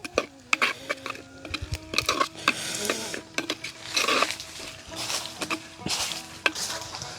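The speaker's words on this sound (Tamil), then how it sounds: "எனி டைமும் இது தாளித்து கொண்டு இருக்கணும்" Noodle seasoning sizzling in a pan while a spoon scrapes and stirs it, with repeated sharp clinks and scrapes over a steady frying hiss, close and irregular.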